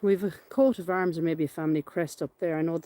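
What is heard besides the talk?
No distinct noise like a dog, phone or traffic.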